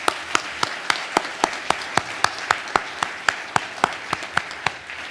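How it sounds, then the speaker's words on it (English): Clapping at a US Navy signing day ceremony comes as sharp, evenly spaced claps, about three per second, fairly close and steady until the end. "A round of applause."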